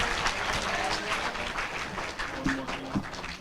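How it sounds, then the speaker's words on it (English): Audience at an eighth-grade school spelling bee applauds, a steady patter of many hands clapping across a few seconds, moderately loud and filling a room. "Round of applause."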